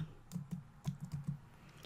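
Typing on a computer keyboard, a quick run of about seven soft, close key clicks in an uneven rhythm, quiet and alone.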